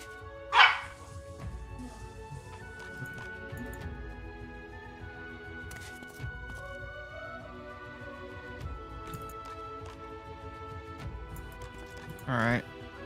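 A dog barks once, sharp and fairly near, over a quiet tabletop role-playing game soundtrack, and a second short bark or yip comes near the end.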